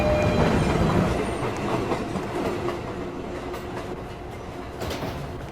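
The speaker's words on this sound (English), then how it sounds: "This is a Manhattan-bound 1 train." Manhattan-bound New York subway 1 train on an R262 car running along the track, a steady loud rumble and rattle inside the car with faint clicks of wheels over rail joints.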